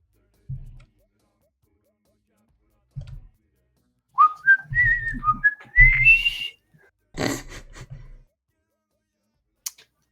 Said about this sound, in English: It is whistling, though.